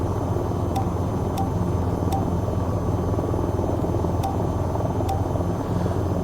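AH-6 Little Bird helicopter in the flight game VTOL VR, its rotor and engine making a steady, loud drone that holds throughout with faint periodic ticks.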